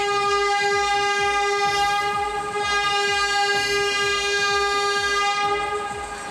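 A tourist tram rumbles steadily along rails through bushland near Perth, Australia, with a rhythmic clack of wheels, while a sustained horn-like tone rings over it the whole time.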